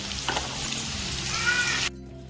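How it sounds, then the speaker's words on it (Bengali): Onion, green chili, pumpkin and potato fry in a pan for a potato-pumpkin curry, a moderate crackling sizzle with a few soft stirring knocks that stops abruptly near the end, leaving faint low hum. "পেঁয়াজ লঙ্কাটা অনেকটা ভাজা হয়েই গেছে"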